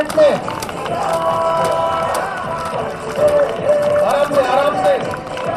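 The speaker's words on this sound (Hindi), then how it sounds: "जोरदार तालियां, ये कमाल।" An audience claps loudly at a New Year's celebration and world-record event, with a continuous patter of hands under voices and tonal sounds that rises and falls across the span.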